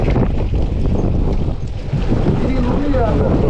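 Strong wind roars steadily across the microphone aboard a small fishing boat out at sea, a dense constant rush with faint voices mixed beneath it.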